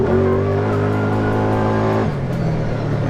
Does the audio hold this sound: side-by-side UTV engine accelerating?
yes